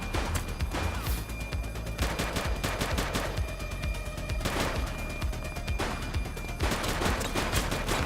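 Video game shootout with sustained gunfire: repeated sharp volleys and rapid automatic bursts, separated by brief gaps and layered with crashing impacts, steady and fairly loud throughout.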